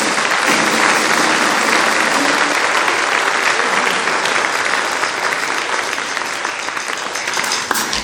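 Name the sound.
audience applause at a band concert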